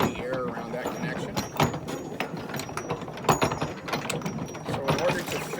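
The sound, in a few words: wrench tightening brass collar on fire pump suction line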